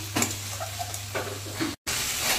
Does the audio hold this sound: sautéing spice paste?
yes